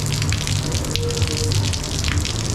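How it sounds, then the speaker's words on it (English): Steady rain and gusting wind during a coastal bike ride on the Portuguese Camino, a dense continuous rush and patter that fills the whole moment without any voices. "Yeah, it's a bit of rain, but the wind makes up for it."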